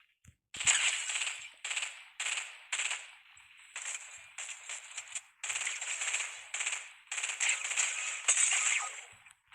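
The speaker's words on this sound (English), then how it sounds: "He shot me." Gunfire in a Fortnite Reload zero build match, heard as repeated crackling bursts of rapid shots with short gaps between them, steady and moderately loud.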